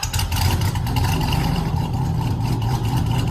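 A small four-cylinder car engine with a modified exhaust roars steadily with a raspy exhaust note, loud and close, holding a sustained rev throughout.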